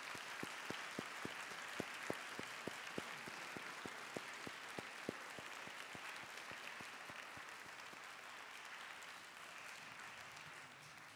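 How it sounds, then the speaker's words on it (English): Graduates stand and applaud their families and friends at a December university graduation ceremony in Manchester, a large hall filled with dense, steady clapping, sharper individual claps standing out early before it settles into an even roar. "give them a round of applause for thanking them"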